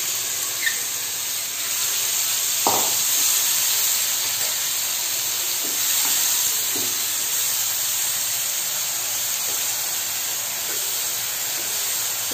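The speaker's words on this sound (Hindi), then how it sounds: "इसमें पहले मैं फ्राई कर लूंगी।" Ground onion, green chilli and garlic paste frying in hot oil for stuffed bitter gourd, a steady close hiss with a few brief clicks and pops, no talk.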